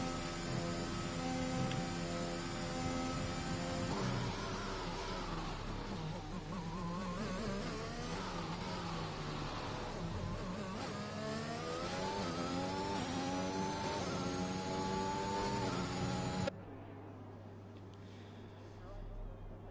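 A Formula 1 car engine in the F1 2021 video game at Silverstone revs loud and high, its pitch climbing and dropping through repeated gear shifts, then cuts off abruptly near the end.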